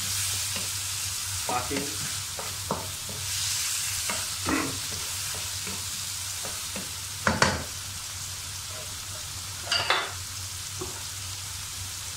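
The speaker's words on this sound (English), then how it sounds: "to sweat the onion and the tomato" Onion and tomato sweat and fry in a pan under a constant hiss of sizzling oil, punctuated by irregular scraping and tapping from a stirring utensil, with a couple of louder clanks; a voice briefly speaks.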